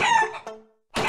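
Rooster crowing and chicken clucks from the Bird Assassin video game, loud and close, with two bursts separated by a brief silence.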